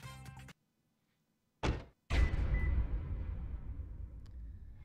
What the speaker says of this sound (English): Close your car door extra hard so he can hear.